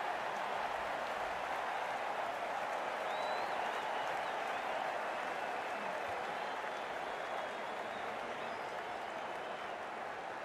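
A dense crowd applauds steadily at a cricket match after a boundary shot, a continuous loud wash of clapping and crowd noise lasting throughout, with faint commentary voices underneath.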